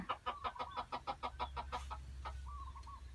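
A captured wild junglefowl hen clucks in a quick run of about a dozen evenly spaced notes, close by, followed by a few softer calls over a low background hum.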